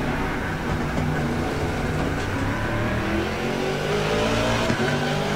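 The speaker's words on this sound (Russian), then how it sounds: "Мне очень понравился этот Aston Martin 2019 года. И сейчас мы на нем едем." A 2019 Aston Martin race car in Assetto Corsa Competizione roars at high revs, a loud, continuous engine drone with rising and falling pitch and tire noise underneath, with no pauses.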